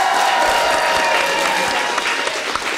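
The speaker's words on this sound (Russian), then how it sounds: "Аплодисменты, дорогие друзья, поехали!" Studio audience applause on a Russian talk show, a dense burst of clapping that stays loud for a few seconds before thinning out near the end.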